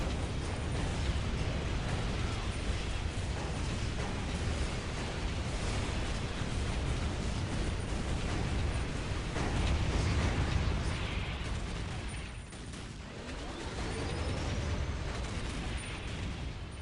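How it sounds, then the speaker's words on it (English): Dense, continuous battle din of rolling explosions and booms from an Orks-versus-Chaos Space Marines match in the strategy game Dawn of War: Ultimate Apocalypse, loud and sustained with a brief dip near the end. "Look at all the explosions!"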